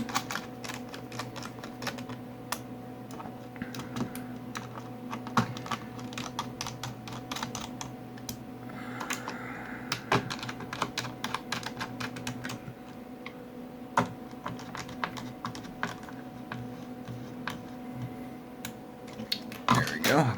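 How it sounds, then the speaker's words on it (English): Someone types on the freshly reinstalled keyboard of an Apple iBook G4 laptop, sharp plastic key clicks in irregular bursts for about twenty seconds, close and clear, with a faint voice at times. "There we go. Keyboard's back in."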